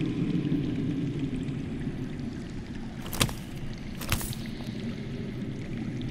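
Underground water in a video game flows with a steady, low, rushing murmur throughout, joined by two brief splashy bursts, with no talk.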